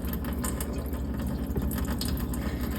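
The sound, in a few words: draining water from soaked dates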